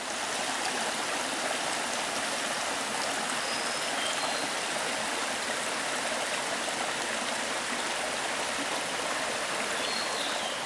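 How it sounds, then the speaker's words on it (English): A stream runs steadily on a green, overcast hike in Namhae, giving a continuous, even rush and trickle of water heard close by with no voices. "So you can hear the water running,"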